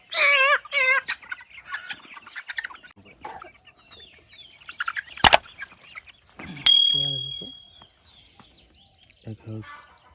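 Hens and roosters at a local chicken farm cluck and squawk in scattered short bursts, close by, while a person talks over them throughout.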